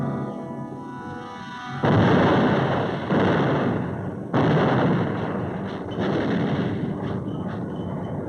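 Heavy artillery and gunfire from the 1945 battle of Iwo Jima roll in loud repeated blasts, each burst swelling and decaying into the next over a constant rumble, with no voices.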